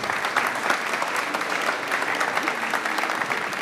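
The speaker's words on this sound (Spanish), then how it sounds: "aplauso." Conference audience applauding after a talk on web applications, a full, even burst of many hands clapping that stays steady throughout, with faint voices mixed in.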